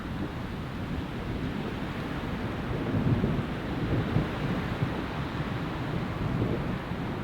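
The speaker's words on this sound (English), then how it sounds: "Something's definitely hitting the canopy here. Oh yeah, it's rain." Rain drums steadily on a camping canopy during a severe storm, a dense, continuous rumbling patter with low wind-like roar, loud and close throughout with no talking.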